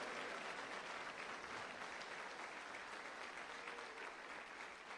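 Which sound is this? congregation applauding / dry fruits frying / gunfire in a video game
congregation applauding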